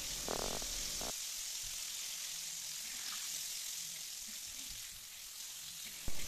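Flour-battered squid deep fries in hot oil with a soft, even bubbling sizzle and a brief clatter at the very end.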